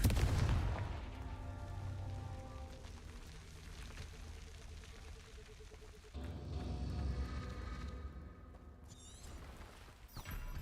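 Blasting spell explosions from Hogwarts Legacy, a heavy boom at the start followed by rumbling blasts and a second burst near the middle, fairly quiet in the mix, with brief speech.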